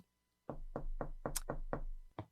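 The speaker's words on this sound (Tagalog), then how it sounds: "Ay, sino naman kaya yung kumakatok na yun?" Knuckles rap on a door in a quick series of about seven to eight distinct, close knocks after a silent start, evenly paced, with one sharper tap near the middle and a final knock slightly apart.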